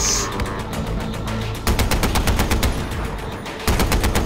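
Rapid gunfire from the video game Far Cry 4, with dense bursts of automatic shots that run almost the whole time. Sharp repeated cracks sit over a steady rumbling game background, loud and close.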